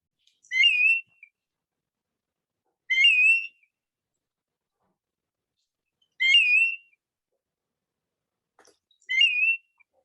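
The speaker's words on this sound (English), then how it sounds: "That's kind of a loud, whistled, mournful cry." Recorded calls of an Arctic-breeding shorebird: four loud, mournful whistled cries, each short and slurred, repeating at roughly two- to three-second intervals against silence.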